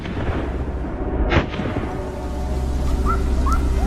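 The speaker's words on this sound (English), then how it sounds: "suddenly a gunshot rang out on the other side of the meadow" A single sharp rifle gunshot rings out across an open meadow during a wild boar hunt, followed by a short echo over steady outdoor ambience, with faint bird calls afterward.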